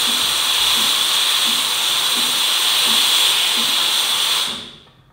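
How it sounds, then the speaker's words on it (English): A Tecnora Cremiere coffee machine's steam wand hisses loudly and steadily for several seconds, a broad unbroken rush with faint rhythmic pulsing underneath, then cuts off quickly at the end. "and there you will see the steam being generated."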